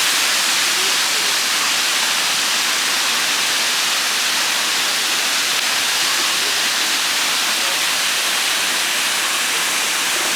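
A waterfall in Munnar roars continuously, a loud, steady rushing hiss that fills the whole stretch without pause.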